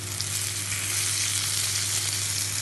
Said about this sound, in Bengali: বেগুন ভাজি দিয়েছি